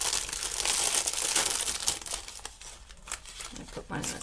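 Sheets of 6x6 designer series paper for card making are handled and shuffled, giving a close, continuous crinkling rustle that thins out toward the end.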